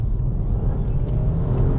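Volvo V60 T8 hybrid estate cruising gently, a steady low road and engine rumble with faint whir, heard from inside the cabin with no talk.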